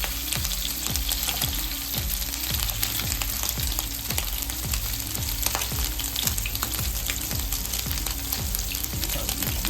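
Homemade meatballs fry in a pan, a loud, steady sizzle with rhythmic scraping and bumping as they are moved around, continuous throughout.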